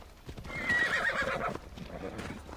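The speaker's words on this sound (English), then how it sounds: "I swear they're donkeys." Horses or donkeys in the video game Assassin's Creed Odyssey let out a drawn-out neigh, a faint whinny rising and falling with soft hoof clops beneath.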